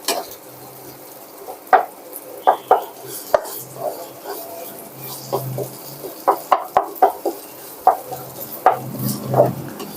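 Curry paste and shrimp paste stir-fried in oil for a Southern Thai squid and long bean dish, with repeated scraping and tapping of a utensil on the pan over a faint sizzle, irregular and fairly close.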